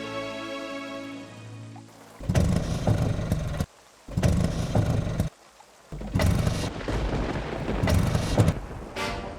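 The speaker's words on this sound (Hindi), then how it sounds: "रिक्शा स्टार्ट नहीं हो रही है मैडम, लगता है इंजन में पानी चला गया है।" An auto rickshaw engine cranks in three loud rough bursts with short pauses between them and fails to start in heavy rain; soft music plays at first, then stops.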